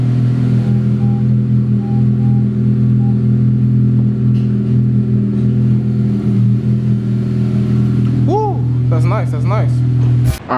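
A Honda Civic Si with a newly installed stage 3 clutch idles in gear with a drive wheel spinning freely, giving a loud, steady low engine hum throughout. A voice speaks over it toward the end.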